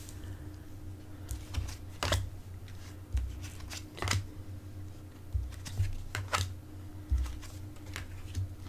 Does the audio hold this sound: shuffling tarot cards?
yes